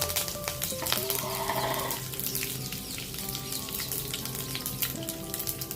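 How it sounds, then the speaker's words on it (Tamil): Mustard seeds, urad dal and curry leaves spatter in hot oil for a Chettinad-style kosumalli, a dense steady crackle running throughout, with tonal background sounds resembling bleating animals layered underneath. "இப்போ எண்ணெய் காஞ்சிருச்சு கடுகை போடுவோம் உளுந்தம்பருப்பு கருவேப்பிலை"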